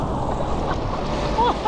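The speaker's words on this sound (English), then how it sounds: "Intense wave pool." Churning water and surf roar steadily in a water park wave pool at Six Flags Over Georgia's Hurricane Harbor, loud and close with wind buffeting, no clear talk.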